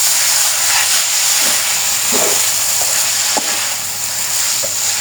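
Boiled Kokola noodles sizzle and hiss steadily in a hot pan as they are stir-fried with a hand-ground chili-garlic spice paste, with a few soft scraping stirs breaking through the constant frying noise.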